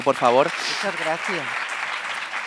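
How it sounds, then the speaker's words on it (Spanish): Audience applause at a Pride event panel, a soft wash of clapping beneath someone speaking briefly in Spanish. "Y vamos a despedirla con un fortísimo aplauso"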